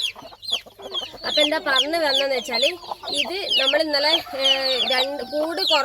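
Vaccinated country chicken chicks cheep and chirp busily throughout, close and lively, while someone talks over them.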